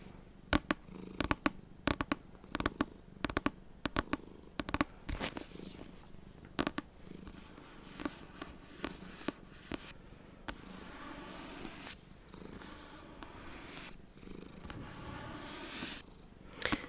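A cat purrs softly and continuously beneath close, quiet ASMR tapping and handling sounds that come in irregular sharp clicks, mostly in the first half.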